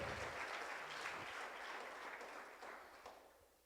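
A church congregation claps together for the Lord in a sustained burst of dense applause that fills the space, gradually tapering off toward the end with no voices on top.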